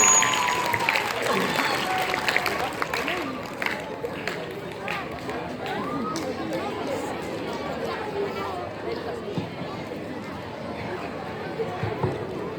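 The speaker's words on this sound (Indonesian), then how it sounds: "Berikan tepuk tangan" A school audience at a morning assembly applauds a student performance, steady clapping mixed with crowd chatter and scattered voices throughout, fairly close and continuous.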